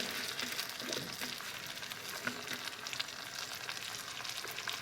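About six cups of rice frying in a pot with meat for pilaf, a dense, even sizzle close by broken by soft scraping stirs, with no one speaking.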